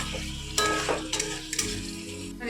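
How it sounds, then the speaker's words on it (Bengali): Fried pointed gourd stirred in a sizzling pan, a steady frying hiss with several scraping strokes of the spoon against the pan, close and fairly loud. "এবার মিলিয়ে দিচ্ছি ভালো করে, আঁচ কমিয়ে এটাকে দিয়ে দিলাম।"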